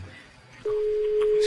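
Telephone ringback tone on an outgoing call during an Italian radio show, a steady single tone starting abruptly after faint background noise.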